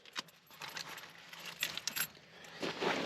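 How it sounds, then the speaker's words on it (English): A bunch of keys jangles close by in short, bright metallic clinks and rattles, lifted and shaken in irregular bursts over a few seconds. "Keys, won't get far without those."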